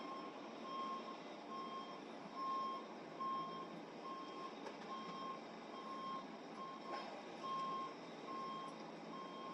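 A truck's reversing alarm beeps in a steady, evenly spaced pulse over a low engine rumble as it backs up past a curb on a quiet street, with no talking.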